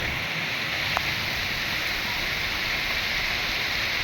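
Rain with gusting wind at night over the Ratanmahal area, a steady, dense hiss of falling rain and rushing air, even and unbroken throughout, with no voices.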